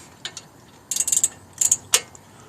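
Ratcheting wrench snugging brake caliper bolts on a 1998 Jeep Grand Cherokee Laredo 4.0 4x4, with a few short bursts of quick metallic clicks spaced apart, close and fairly quiet.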